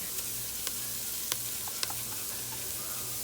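Seasoned onions sizzle in a pan, a continuous bright hiss with scattered small pops and crackles, close and fairly quiet, with no talking.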